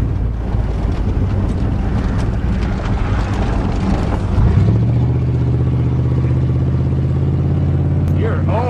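A 1988 Chevy truck engine pulls steadily on a test drive, a continuous low rumble with wind noise that drops in pitch as it shifts around the halfway point, then drones on at a lower, even tone, with voices talking faintly over it.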